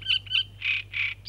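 A great reed warbler, a small brown bird, sings close and clear in a series of short, harsh, repeated phrases over a faint low hum.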